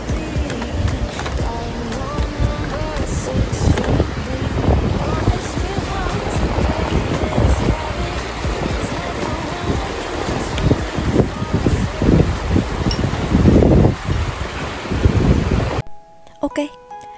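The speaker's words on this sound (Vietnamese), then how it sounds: "Nhưng mà gió to lắm, tại vì nằm ở sát núi, thành ra là gió rất to." Strong, gusty wind buffets the microphone in a continuous roar with rumbling low bursts, beside the lake at Hallstatt in Austria, close to the mountains, then drops off abruptly near the end.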